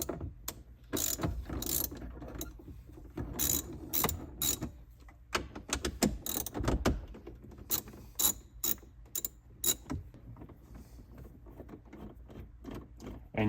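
A ratchet backs out 10 mm bolts holding the head unit in a third-generation Toyota Tacoma, heard as bursts of rapid close clicking with short pauses between them.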